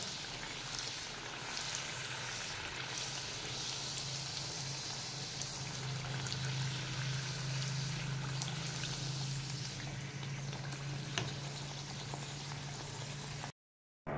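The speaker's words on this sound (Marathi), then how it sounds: "तेल तापलेलं आहे, त्याच्यामध्ये आता आपण सगळ्या पुऱ्या छान तळून घेऊयात।" Puris made from coriander stems frying in hot oil, a steady dense sizzle and bubbling that holds for many seconds, close and even, with no talking.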